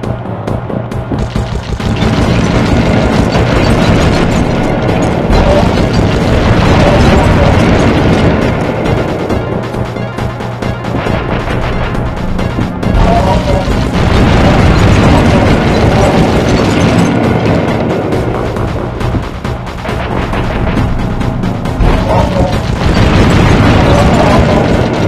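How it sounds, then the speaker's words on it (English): Missile blasts in the video game Sly Cooper come as a dense, loud barrage of booms and bursts over roughly 25 seconds, layered over continuous game noise with only brief lulls. "My missiles don't hurt him but seem to create holes in his armor."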